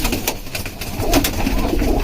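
Several pigeons coo steadily in a loft under a tin roof, close and fairly loud, with soft rustling and brief bursts of noise between the low rolling calls.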